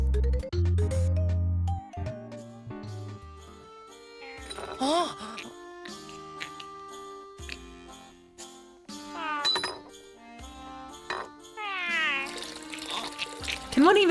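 A cat meows several times, with rising and falling cries scattered over running water and kitchen clatter.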